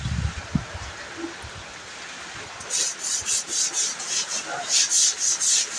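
A brush scrubs moss off a surface outdoors in the rain, first quiet rubbing and then a run of rhythmic scratchy strokes, close and steady, with no talk.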